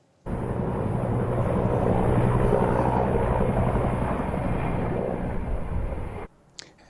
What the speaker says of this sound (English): Helicopters and planes are dropping water bombs over the area.